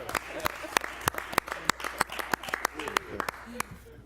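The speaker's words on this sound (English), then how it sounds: "we should end this presentation with a round of applause for you and your staff" A small group at a city council work session claps, with sharp, distinct hand claps at an uneven rhythm and faint murmuring voices underneath, fairly close and moderately loud.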